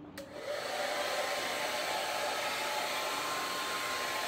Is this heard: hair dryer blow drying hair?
yes